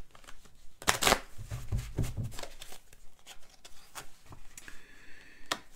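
A deck of tarot cards is shuffled by hand nearby, with crisp riffling flutters at first that give way to softer, irregular card slaps and rustles.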